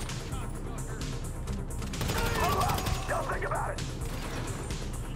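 Gunfire in Grand Theft Auto V, a dense burst of rapid shots and crashing impacts peaking midway over steady background game noise, with no talk over it.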